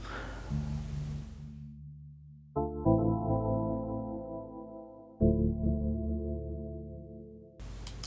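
A synth plays single sustained notes without a chord plugin, stepping between a few pitches in a slow, steady line with no chords.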